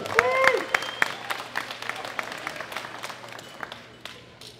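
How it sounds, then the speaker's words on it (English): An audience at a world classic powerlifting championship applauds the women's silver medal winner: moderate, fairly sparse clapping with distinct individual claps, following a short burst of an announcer's voice at the start. "Big round of applause for Belarus, Jana Zuko."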